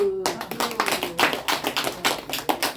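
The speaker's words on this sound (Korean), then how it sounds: "박수" A church congregation claps during a sermon, with a quick run of sharp, fairly close hand claps in a loose, uneven rhythm, and a voice briefly heard at the start.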